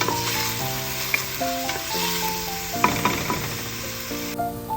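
Finely chopped onions frying in about two spoons of coconut oil for chicken biryani, a loud, steady close-up sizzle with scraping stirs and brief clatters, no voices.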